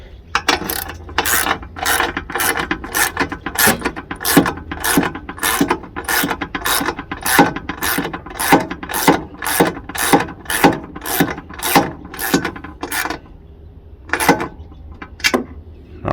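Hand ratchet tightening bolts during assembly of a Greenworks 42-inch zero turn mower, a rapid string of sharp, close clicks in steady bursts, pausing briefly near the end before a few final clicks.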